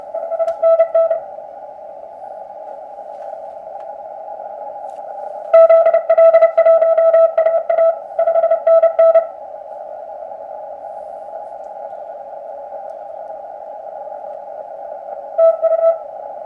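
A QMX Plus radio plays through its newly installed speaker, giving a steady tonal hum with bursts of beeping tones that come and go, clear and fairly loud, with no talking.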